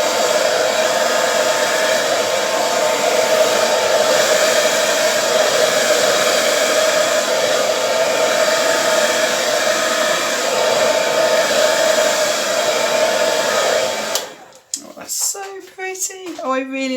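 A hair dryer blows steadily over wet acrylic paint for a colourful poured-paint piece, a loud continuous whir that cuts off near the end as a voice speaks.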